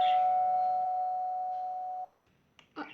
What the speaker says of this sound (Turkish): Kapı çaldı.